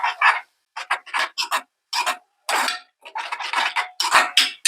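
Scraping and rasping of a spoon against a pan of tomato mixture for prawn thokku in short, irregular bursts with brief pauses, close and fairly loud.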